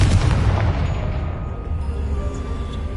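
A Confringo blasting spell explodes in Hogwarts Legacy, a loud, dense boom that hits at once and then trails off into a long rumbling decay over a few seconds, heard alone.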